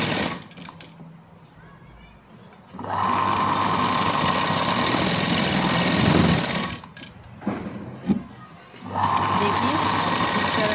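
Sewing machine stitching the hem of a kurti, running in two long steady bursts with a brief pause between, loud and close, with someone speaking over it.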